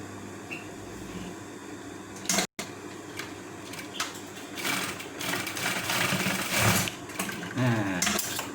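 An electric sewing machine stitches a polo shirt collar onto the neckline, running in bursts with a steady mechanical whir and faint stops in between.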